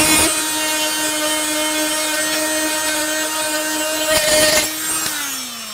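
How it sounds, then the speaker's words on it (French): A Fein Multimaster FMM350Q oscillating tool scrapes glue residue, a loud steady high buzzing whine with a constant pitch, a few rough scraping bursts near the end as the pitch drops while the tool winds down. "Je vais pouvoir retirer les résidus de colle."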